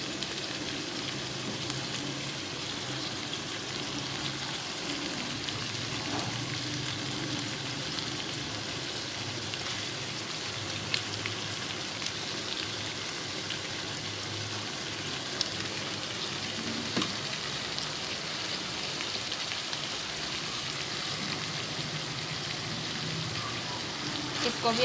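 Spinach and chickpeas fry in a pan with a steady, close sizzle and occasional stirring scrapes, continuous and even throughout, with no speech heard.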